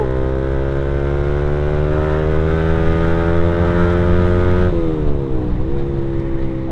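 A Suzuki Satria fuel-injected motorcycle accelerates hard on a road, its engine whining steadily higher through the revs before a brief dip at a gear change and then climbing again, loud and close with no talk.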